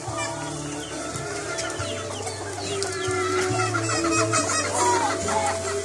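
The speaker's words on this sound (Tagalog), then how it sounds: "Yan ang manok namin, manok panabong namin" A fighting rooster clucks and calls repeatedly, close by, with a low steady hum underneath and a few short bird-like squawks rising toward the end.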